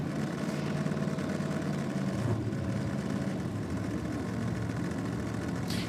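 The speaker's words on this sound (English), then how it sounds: "Interesting sound on fire up there for Corbett" Old-school supercharged V8 drag racing engine at a nitro championship firing up, a loud, rough, continuous rumble with a shift in tone partway through, heard close with no voices.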